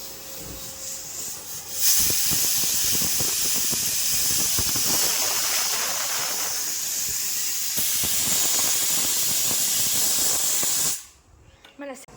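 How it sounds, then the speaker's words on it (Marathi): A pressure cooker cooking khichdi releases a loud, sustained steam whistle and hiss for about nine seconds, then cuts off abruptly. "कुकरच्या तीन शिट्ट्या झाल्यात"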